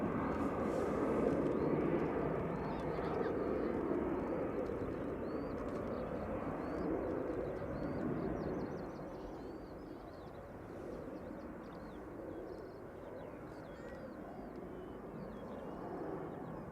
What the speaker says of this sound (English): This is Jet2 flight 832, A321-200 Neo G Sun D, coming in from Palma de Mallorca.